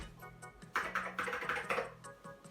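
Keys on a Macintosh Plus keyboard are struck in a quick irregular run of crisp, clicky presses, close and fairly quiet, with no talking.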